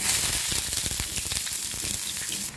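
Onion sizzles and crackles in hot refined oil in a frying pan, a steady close frying hiss with popping that continues throughout and drops slightly at the very end.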